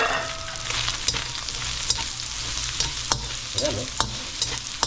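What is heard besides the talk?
garlic sautéing and being stirred in a pan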